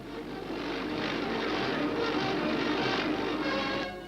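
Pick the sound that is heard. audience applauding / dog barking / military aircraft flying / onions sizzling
military aircraft flying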